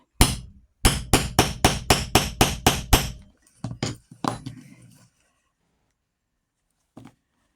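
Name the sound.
metal hammer striking metal tool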